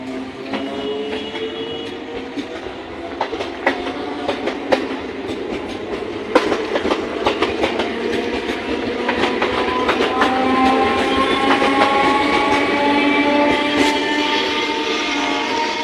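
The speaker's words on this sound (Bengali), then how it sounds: "ট্রেন দাঁড়িয়ে দেখতে পাচ্ছ, ছাড়বে, ট্রেনটা ছেড়ে দিয়েছি" A train rolls along with steady rhythmic clacking of wheels on rails, growing slightly louder and busier as it gathers speed, no voices.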